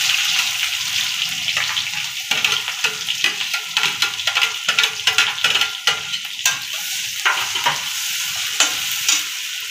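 Chopped onion frying in hot oil with cumin seeds and asafoetida in a home kitchen pan, a steady loud sizzle broken by repeated scraping stirs of a spoon, with no one talking.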